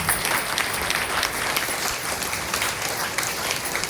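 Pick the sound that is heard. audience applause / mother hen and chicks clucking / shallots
audience applause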